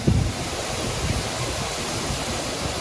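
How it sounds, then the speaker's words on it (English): Steady broadband rush of the Housatonic River flowing through downtown Dalton, Massachusetts, a continuous even wash of moving water with some wind noise, heard alone at moderate level. "Housatonic River."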